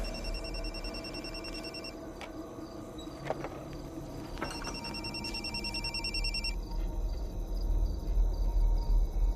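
A phone rings repeatedly in a steady electronic trill, heard from a distance over room noise, then stops partway through.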